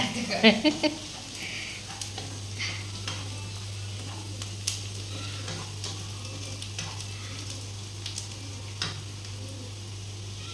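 Pieces of squid fry in a pan as a spoon stirs them, the light sizzle running under sharp scraping clicks and knocks of utensil on metal, a low steady hum behind, while a few brief voice sounds come and go.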